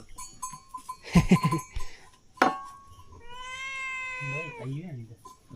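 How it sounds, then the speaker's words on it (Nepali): A cat gives a drawn-out meow close by, following a few clattering knocks and brief speech. "यसले के माग्दैछ म्याउ म्याउ भन्दैछ"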